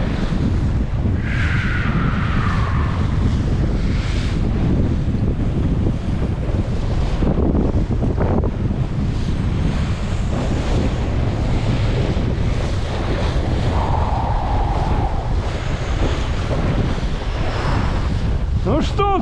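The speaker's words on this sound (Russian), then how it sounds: "слабо в море выйти, вот такой ветер" Strong gusting wind buffets a Laguna-Kombi+ sailing dinghy at sea as the wind picks up, with loud rumbling microphone wind noise over sloshing waves and the hull's splashing, plus a voice now and then.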